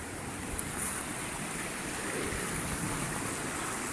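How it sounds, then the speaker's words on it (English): Swift floodwater rushing through a normally dry creek on a homestead, a steady, dense broadband roar with no pauses, close and fairly loud, no voices. "next to our typically dry creek, and you can see it's moving pretty quickly"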